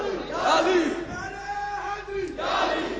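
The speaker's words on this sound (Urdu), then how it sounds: "نعروں میں وقت ضائع مت کرو" A crowd at a gathering shouts slogans in unison, loud rhythmic bursts of massed voices rising and falling, with a short lull in the middle before another swell.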